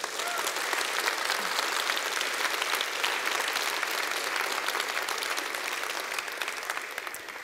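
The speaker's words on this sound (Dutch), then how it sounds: "APPLAUS." Sustained applause fills a hall at a Socialist Party (SP) congress, a dense, steady wash of many hands clapping that holds for several seconds and begins to fade toward the end.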